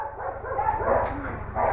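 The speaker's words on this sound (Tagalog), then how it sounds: "Ang dami aso" Several dogs bark and yip close by in quick, overlapping bursts, with a steady low engine rumble underneath.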